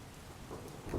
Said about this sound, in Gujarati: અમદાવાદ શહેરમાં મધ્યરાત્રિથી ભારે વરસાદ વરસી રહ્યો છે